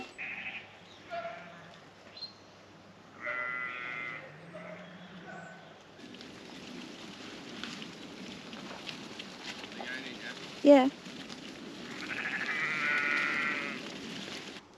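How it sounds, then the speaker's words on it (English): Sheep are driven through a gate into a fenced field, bleating several times at close range among shuffling movement and outdoor noise, while people talk briefly. "Sheep are going in."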